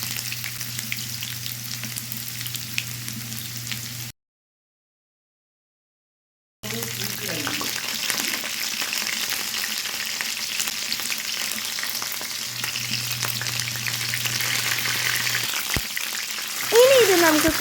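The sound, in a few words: sautéing garlic, ginger, green chilies and curry leaves in a pan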